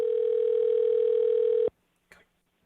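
A phone call tone sounding as the caller waits for someone to pick up before the call goes to voicemail: one loud, steady tone that holds for over a second and a half and then stops abruptly, followed by a brief faint noise.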